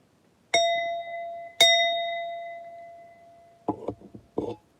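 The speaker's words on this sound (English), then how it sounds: "You get a bell for talking in the chat." A stream's chat notification bell rings twice as two clear, ringing dings about a second apart, each sustaining and slowly fading, followed by a few short, muffled knocks.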